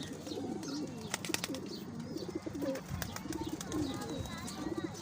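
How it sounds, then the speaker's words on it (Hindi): A high-flyer pigeon with pink-tinged eyes coos in repeated soft, throaty phrases close by, with light rustling and clicks around it. "ये मेरे पास बाजियों में उड़ा हुआ कबूतर है"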